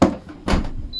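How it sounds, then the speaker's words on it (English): Whirlpool ADG 175 dishwasher door latch catching, heard as a sharp close knock followed by a second clunk about half a second later, each fading fast with no talk. "That way it can go in and catch into that latch here"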